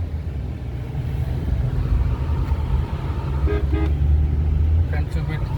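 Car horns in Vizag city traffic during a car trip toward Yarada Beach: two short toots stand out over a steady engine rumble and road noise, while people talk in the car.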